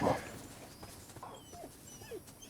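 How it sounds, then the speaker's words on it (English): A chained dog on a property whimpers softly in a film, a few faint yelps and whines over a noisy background. "He sees a dog tied with a tight chain on someone's property."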